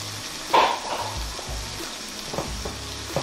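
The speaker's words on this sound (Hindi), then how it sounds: "अब हम इसको अच्छे से मिक्स करेंगे और टमाटरों को भी भून लेंगे साथ ही" Tomato puree sizzles and fries with spices in a pan for kabooli while a spoon stirs it, the steady sizzle broken by a few scraping knocks up close.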